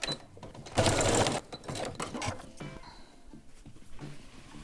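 A domestic sewing machine stitches fabric pieces together in a quick burst of rapid mechanical chatter, then pauses and gives shorter runs and clicks, close and fairly quiet, with no talking.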